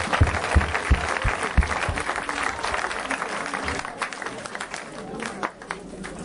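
A church congregation claps in applause for baptisms, with a quick burst of loud claps at first that settles into a sustained, more scattered crowd applause with some faint voices.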